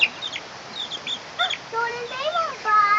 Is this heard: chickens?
yes